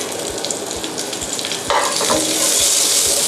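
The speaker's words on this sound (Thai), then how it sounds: "โอเค นี้ผมจะกลับด้าน มันฝรั่งละ" Sliced potatoes sizzle and fry in a pan right after being flipped, a loud, close crackle with soft rhythmic thumps beneath, the hiss swelling stronger partway through.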